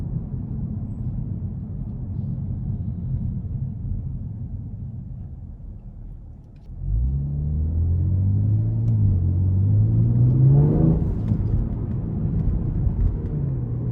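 A 2022 Genesis G70 3.3T in sport mode accelerating, heard from inside the cabin: a steady low rumble dips briefly, then a deep engine note swells and climbs steadily in pitch under hard throttle.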